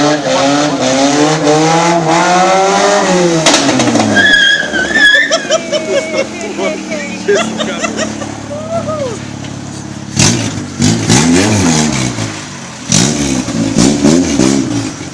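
A car revs hard and skids with its brakes locking, tyres squealing in repeated rising and falling bursts over the engine noise, with voices talking at moments.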